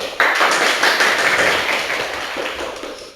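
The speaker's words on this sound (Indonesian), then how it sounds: "Baik, tepuk tangan." Applause from a class of junior secondary students after group names are read out, a dense burst of clapping that fades slowly over a few seconds.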